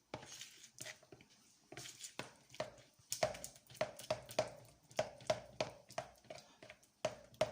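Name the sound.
mixing oil into homemade mayonnaise for beef salad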